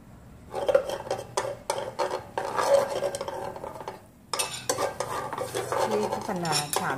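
Butter brushed onto a heated grill pan before grilling pork cartilage ribs: soft repeated scraping and dabbing strokes in bursts, with light clinks of utensil against the pan and a faint sizzle underneath, fairly close.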